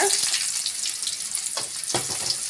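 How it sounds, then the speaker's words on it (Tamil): Oil sizzles and crackles steadily as chopped onions fry for a lentil and greens dish, with a couple of sharper scraping stir sounds near the end. "வெங்காயம் நல்லா வதங்கி வரட்டும்"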